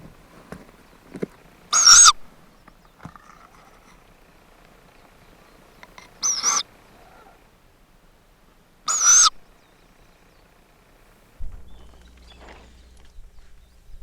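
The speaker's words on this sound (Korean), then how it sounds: "올빼미 새끼들도 제법 자랐다." Owl chicks at their nest in a chestnut tree give three loud, harsh hissing calls spaced a few seconds apart against a quiet night forest.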